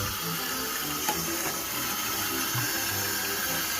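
An old household toilet being flushed during a connector and valve replacement: a steady, close rush of water fills the whole stretch, broadband and continuous, with no talking.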